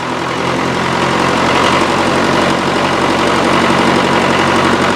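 A grey Ferguson tractor engine runs steadily and loudly nearby, a constant low chugging rumble with mechanical rattle throughout and no pauses.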